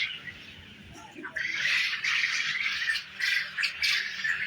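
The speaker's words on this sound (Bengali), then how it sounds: "পিছনে যে পুরুষ পাখির সাউন্ড বা ডাক শুনতেছেন ওগুলা বীজ ডিমের পাখি" Male breeder chickens kept for hatching eggs on a chick farm call out in the background, a run of repeated squawking cries that rise and fall in short bursts at moderate distance, with no talk over them.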